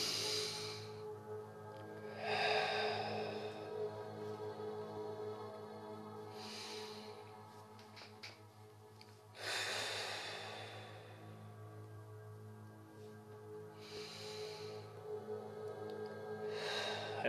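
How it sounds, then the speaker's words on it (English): Slow, deep breaths drawn in through the nose during a guided meditation, about five soft airy swells spaced several seconds apart over a steady low ambient drone, with no talking. "7 of those deeper breaths, really trying to feel the belly as you breathe"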